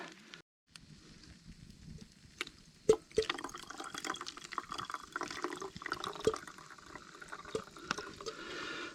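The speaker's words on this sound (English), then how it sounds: "It's vented too, so it won't gurgle with the water being poured in." Water pours into a vented container at a backpacking camp in early spring, giving a faint, steady trickle and splash broken by a few sharp knocks and clatters of gear.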